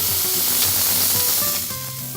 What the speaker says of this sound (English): We're gonna basically grab our meat, pop it in the middle, and smash it